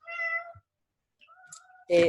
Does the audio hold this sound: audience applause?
no